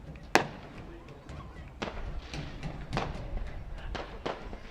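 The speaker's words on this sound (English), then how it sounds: "Free fireworks show on a Thursday night." Fireworks burst near a collegiate league ballpark on a Thursday night, with one sharp crack followed by a string of duller, spaced thumps over a low crowd bed.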